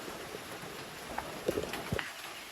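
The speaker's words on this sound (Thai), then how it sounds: "ฝนเนี่ย มันตกนะคะ" Rain falls steadily outdoors as a faint, even hiss, with a few soft drops and thuds breaking through near the end.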